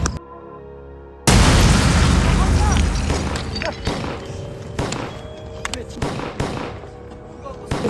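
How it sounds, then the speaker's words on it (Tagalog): A lamp explodes in a student short film of El Filibusterismo: after quiet talk, a sudden loud blast erupts, followed by a string of sharp pops and crackling bursts while voices carry on. "Hintayin muna natin pagsabog ng lampara."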